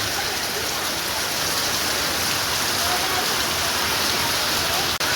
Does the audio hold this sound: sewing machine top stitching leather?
no